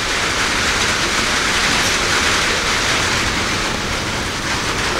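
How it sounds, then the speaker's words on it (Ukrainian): Steady rain falls at a farmstead, a dense, even hiss of drops on surfaces that continues loud and unbroken throughout. "Ну так, да, дощ іде з самого утра."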